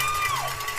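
A crowd at a high school football game cheers and shouts together, a dense, loud roar of voices with a few higher whoops rising above it.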